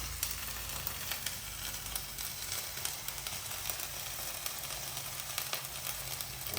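Onions with ginger garlic paste sizzle and fry steadily in a pan, a continuous close crackle with small pops throughout and no talk over it.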